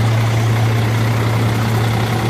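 A truck engine idles steadily nearby, with a loud, constant low-pitched rumble and no breaks in the sound.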